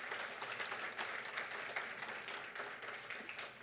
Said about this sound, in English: I think we can just give another round of applause to the speakers